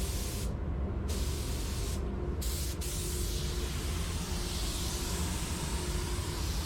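A DD1 spray gun at 13 psi sprays transparent PPG car paint in a loud, steady hiss, broken by two short gaps early on before running on continuously.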